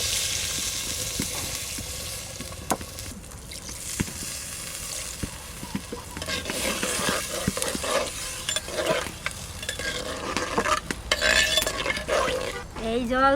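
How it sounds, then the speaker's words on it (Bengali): Duck meat frying in a pot, Santali village style, as water is added: steady loud sizzling with stirring scrapes and occasional utensil knocks throughout, no voices. "কষানো হয়ে গেছে, এবার জল দিয়ে দিচ্ছি।"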